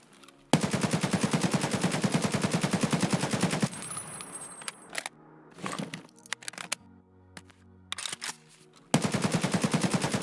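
Automatic gunfire from a cheap budget gun in the Escape From Tarkov hideout range: a long, loud, rapid burst, then scattered shorter bursts and single shots, then another sustained rapid burst.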